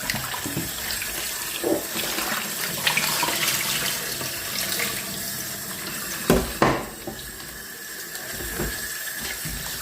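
Kitchen tap water runs steadily into a sink while vegetables are rinsed, a continuous splashing hiss broken by a few clanks and knocks of items being handled, close and alone.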